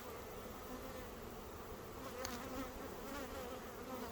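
Bees at a swarm trap hum in a dense, steady drone, quiet and continuous throughout with no talking.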